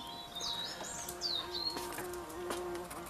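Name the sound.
bees buzzing among roses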